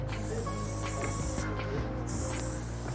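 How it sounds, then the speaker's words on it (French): A can of spray paint hisses in a steady, continuous spray as a street artist paints outside a school, with brief pauses in the spray over constant outdoor background noise. "À coups de bombe de peinture, il imagine en quelques minutes devant ce collège une œuvre au message universel."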